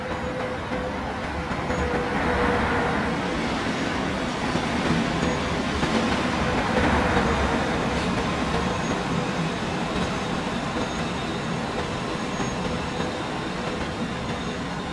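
A West Express main-line train in the Transport Fever 2 game runs steadily on rails in a continuous rumbling, rolling drone with faint wheel clatter, heard from the cab with no talking.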